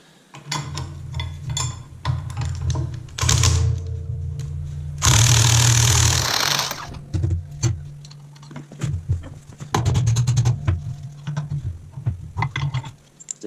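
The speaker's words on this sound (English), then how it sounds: "Take this retainer bolt out on the front drawbar pin." Metal clinks and rattling from removing a retainer bolt on the front drawbar pin of a John Deere 750 planter opener, with a loud scraping burst midway and scattered sharp knocks throughout.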